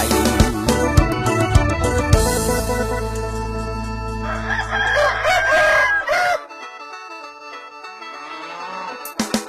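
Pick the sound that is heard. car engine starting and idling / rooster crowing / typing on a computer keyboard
rooster crowing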